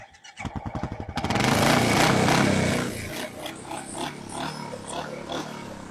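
A Royal Enfield Classic 350 single-cylinder motorcycle starts with a few rapid cranking pulses, then its engine revs loudly up close before settling into a steady, thumping idle.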